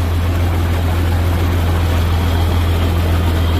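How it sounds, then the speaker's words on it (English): A 1970 John Deere 4520 diesel tractor engine idles steadily at close range, a loud, constant low throbbing drone with an even mechanical rumble and no talking over it. "This tractor sounds incredible."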